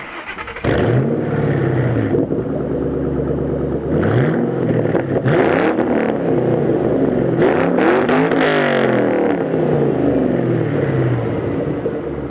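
A 2007 Ford Mustang GT V8 exhaust with axle-back pipes rumbles deeply and loudly up close, revving up and down repeatedly with a throaty, burbling roar.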